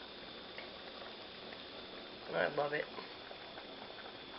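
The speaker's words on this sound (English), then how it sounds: "So, soup is bubbling away here." Trail stew with potatoes bubbles in a pot, a soft, steady simmering patter under a brief spoken remark.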